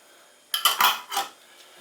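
Closed glass jars of home-canned fish with paprika are set into a towel-lined pot, giving a short cluster of bright clinks and knocks over about a second, close and alone.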